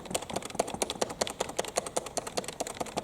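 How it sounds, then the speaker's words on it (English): Rapid, clattering keystrokes on a Fellowes Microban split ergonomic wired keyboard, close and crisp, in an uneven but continuous typing rhythm. "you can hear the sound of the keys as I hit them"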